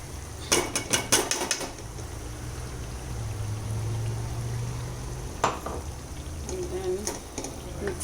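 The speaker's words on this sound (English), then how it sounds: "Now this coriander and onion paste I'm adding this." Mutton masala cooking in a pan as coriander and onion paste goes in, with clattering utensil and pan knocks in short bursts over a steady low sizzle, fairly close and moderately loud.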